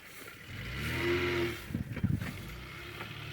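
A car engine runs steadily, rising into a louder revving surge and then settling into a lower, uneven rumble with short bursts, heard fairly close.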